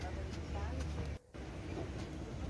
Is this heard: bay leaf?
no